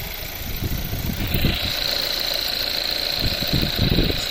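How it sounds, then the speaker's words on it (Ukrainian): A 2016 VW Jetta direct-injection engine idling steadily up close, a smooth continuous rumble with a faint high whine joining partway through. "І ось так у нас працює двигун."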